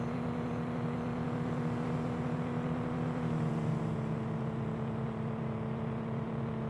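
Steady engine drone of a transporter van in Denizen, driven at full throttle on a road near a fuel station, holding a constant, moderately loud hum with no talking.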